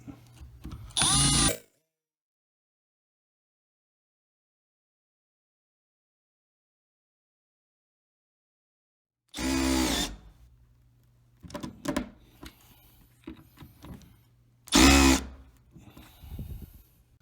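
Short bursts of a power drill driving screws into a door hardware plate, one near the start and more later, separated by a long silence and light handling clatter.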